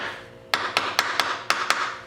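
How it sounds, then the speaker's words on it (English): Screwdriver tapped on the oil filter cover of a Honda CB350 motorcycle, giving six sharp, close metallic taps in a quick, fairly even rhythm. "Let me tap on this a little bit so we're ready to break loose."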